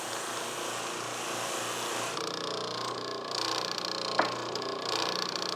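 A buffing wheel spins against a turned wooden vessel, giving a steady whirring hum with a brief sharper squeak partway through and a slight rise in loudness toward the end.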